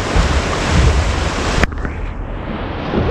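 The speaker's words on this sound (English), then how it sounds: "Lots of water coming over the gunwales." Lake or river waves sloshing over the gunwales of a canoe on a far-north wilderness trip, a loud close rushing splash that cuts off abruptly midway, leaving quieter water and wind noise.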